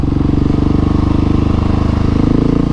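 A motorcycle engine drones loudly and close up during wheelies, with a steady rapid throbbing pulse.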